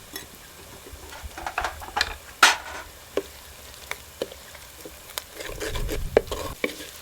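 Spices, including coriander-cumin powder and salt, crackle and sizzle in hot oil for a green cauliflower curry, with soft frying hiss broken by sharp ticks and clicks of stirring and a louder clatter near the end.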